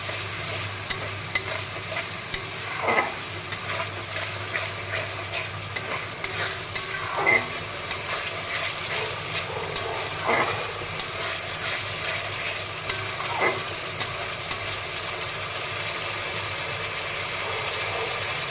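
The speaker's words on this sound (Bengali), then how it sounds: "মশলার সাথে আলু আর কাঁঠালটা ভালো করে কষিয়ে নিলাম" Spices sautéed with potato and jackfruit in a pan, an ongoing sizzle punctuated by regular spatula scrapes and knocks every second or so, close, with a low engine-like hum underneath.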